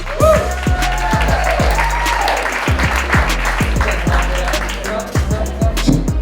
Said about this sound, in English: Everybody give a warm round of applause right now for Mr. William Lynch.